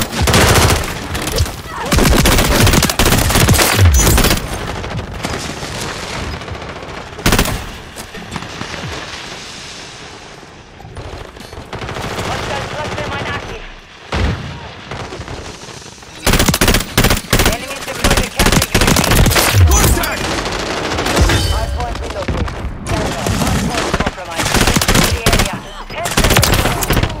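Relentless gunfire in Call of Duty MW3 on the Shipment map, loud, near and nearly continuous over the whole stretch, with automatic bursts, single cracks and explosive thumps piling on one another and briefly easing only in a few gaps.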